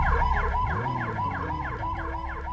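A wailing siren rises and falls in quick repeated sweeps, loud and close, with an engine rumbling underneath.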